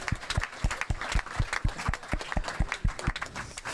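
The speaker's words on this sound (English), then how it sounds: "please can we begin with a round of applause for these guys" A small audience at a crypto dinner event gives a round of applause, a brisk patter of claps heard close by that continues evenly throughout.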